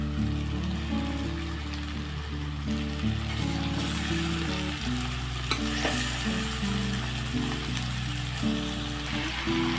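Marinated chicken with curry leaves sizzles in a hot pan and is stirred, giving a steady frying hiss with scraping stir sounds. Background music with sustained tones plays underneath the whole time.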